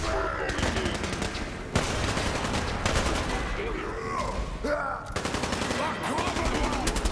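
Gunfire from Fallout 4 as a pistol is fired in close quarters, rapid cracking shots in repeated bursts with brief gaps, loud and near, with talking mixed in at times.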